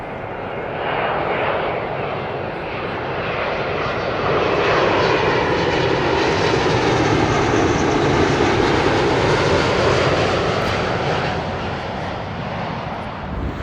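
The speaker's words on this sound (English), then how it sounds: "British Airways, Boeing 777-200. That is arriving at Heathrow from Atlanta." A British Airways Boeing 777-200 arriving at London Heathrow from Atlanta gives a loud, steady jet roar that swells and then eases off slightly, heard alone without voices.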